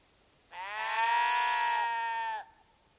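A single sheep in the video game Kingdom Come: Deliverance II lets out one clear, sustained bleat lasting about two seconds against a quiet background.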